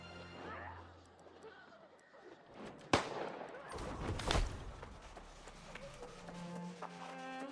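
Musket gunshots in the video game New World, a few sharp cracks with one loud report standing out, then a second burst, heard under casual talk amid game noise.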